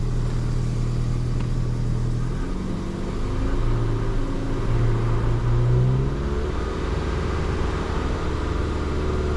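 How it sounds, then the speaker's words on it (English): A Ford Fiesta engine with a misfire, revving while still cold, rising and falling through several throttle blips over a steady idle, close and loud with no talk. "we've got to be a bit careful revving the engine up with it being cold"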